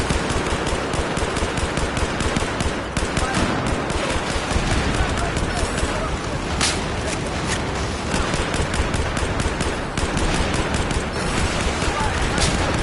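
Rapid automatic gunfire in the shooter game Battlefield 4, with dense bursts of shots crackling almost continuously, loud and close, and someone talking over the shooting.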